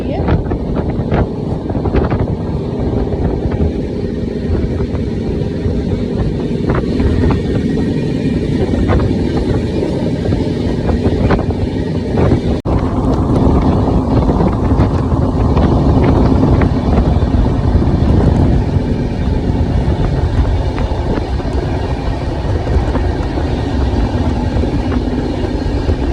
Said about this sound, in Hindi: ट्रेन की रफ्तार देखो दोस्तों कितनी तेज चल रही है।